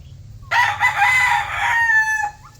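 A rooster crows once, loud and close, on a small poultry farm, the call rising and then trailing off over a low background hum.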